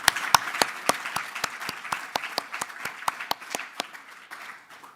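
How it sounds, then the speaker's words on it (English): An audience claps in appreciation for hackathon participants at a sustainable finance hackathon closing ceremony, a loose burst of individual hand claps that thins out and fades toward the end. "maybe we should do a big applause to the participant of the hackathon"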